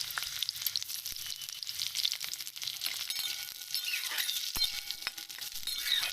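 Potato pieces frying in hot oil with black cumin and slit green chillies, a continuous bright crackling sizzle with occasional clinks of a utensil against the pan, close and steady.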